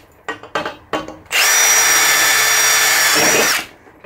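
A Milwaukee red helix bit in an impact driver drills into wood: a few short bursts, then a loud, steady high-pitched whine that runs for about two seconds before stopping abruptly.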